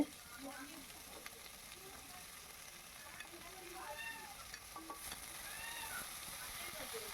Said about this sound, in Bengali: এখন কেটে রাখা আলু আর বেগুন দিয়ে দিলাম এর মধ্যে।